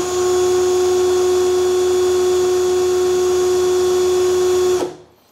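A Keelat KCD005 20V cordless impact drill runs at maximum speed in second gear, a loud, steady, high-pitched motor whine with a constant tone that cuts off abruptly near the end and leaves silence.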